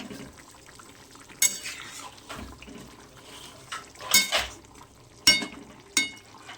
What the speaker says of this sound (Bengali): এটা ভালো করে ঝোলের সঙ্গে মিক্স করে দিচ্ছি।